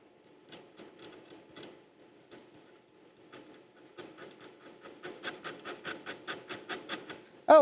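Corrosion being scraped off a battery-leaked Am386SX 40MHz motherboard with a tool, a series of soft rasping strokes that start sparse and quiet, then speed up into a steady, louder rhythmic scratching, close up and without talk.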